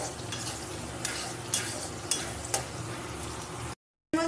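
Vegetarian pasta made from leftover roti sizzles in a pan as a utensil stirs it, with a steady frying hiss and a few sharp metallic clinks against the pan, ending in a brief silence.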